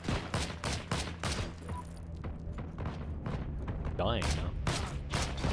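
A G43 semi-automatic rifle fires in the WWII video game Heroes and Generals, a series of sharp, loud single shots in an uneven rhythm, with other gunfire and a player talking briefly.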